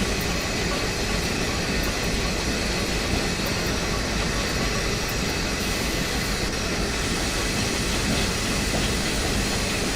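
An Amtrak train runs in the Train Simulator video game, giving a continuous dense rumble and rattle that holds at an even loudness for the whole stretch.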